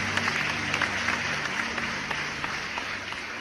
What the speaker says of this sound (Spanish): Aplaude al Dios que vive, aplaude al Dios que vive